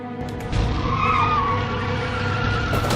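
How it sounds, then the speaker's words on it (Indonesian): Tires skid and squeal over a low engine rumble as a car rams into another car in the 2016 film No Mercy; the loud, steady noise holds for about three seconds. "In-e kemudian langsung menabrak mobil Sangman"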